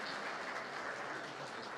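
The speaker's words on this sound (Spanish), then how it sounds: "Por favor, aplausos." Faint, steady applause from a seminar audience, a dense wash of clapping heard from a distance for a short stretch with no talk over it.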